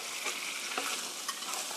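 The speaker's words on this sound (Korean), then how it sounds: "케첩 토마토 소스의 신맛이 좀 날아가게 이렇게 한번 볶아주시고요" Chicken stir-frying with ketchup tomato sauce in a pan, a steady close sizzle broken by a few scraping stirs of the spatula, with no voices.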